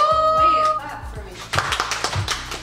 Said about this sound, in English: Wait, clap for me.